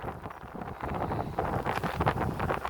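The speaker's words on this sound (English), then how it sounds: "Wind's picking back up again." Strong gusty wind during a March windstorm in Ronkonkoma, New York, roaring and buffeting the microphone with loud rumbling surges and rustling, continuous and close throughout.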